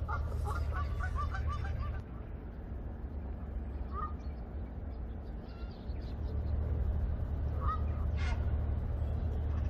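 Branta geese honking in an open plains enclosure at Prague Zoo, several nasal calls scattered across the clip, moderately distant, over steady low background hum and rumble.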